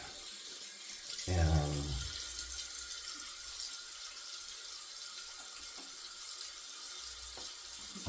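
Tap water runs into a sink to rinse shaving soap off a paddle, starting with a brief louder splash and then settling into a soft, steady stream with faint handling clatter.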